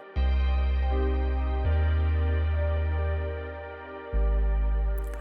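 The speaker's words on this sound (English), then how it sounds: "The pad and the bass together sound like this." A sustained synthesizer pad layered over a deep bass line, shifting through a few chord changes with a brief dip in level before the final chord.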